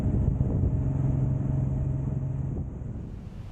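A Suzuki M109R motorcycle cruises fast along a motorway, its engine a steady low drone wrapped in loud wind and road roar that eases slightly near the end.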